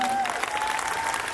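A crowd claps in a brief burst of dense, steady applause.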